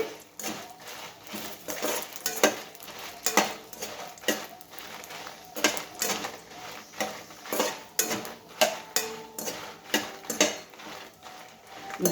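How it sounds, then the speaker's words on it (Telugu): Dried red chillies fry in oil in a pan over a low flame, with steady sizzling broken by repeated clinks and scrapes of a utensil against the pan, close up, with no talking. "ఏదైనా చిన్న మంట మీద వేయించుకోండి"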